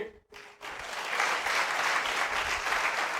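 A church congregation breaks into sustained applause during a Sunday sermon, a steady wash of clapping from many hands that swells after a brief pause and carries on evenly.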